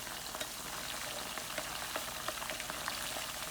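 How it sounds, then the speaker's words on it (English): Potatoes frying in a pan, a steady close crackling sizzle of hot oil with scattered sharper pops, continuous and unbroken with no voices. "I've had that frying, and I'm sure it's about ready to turn."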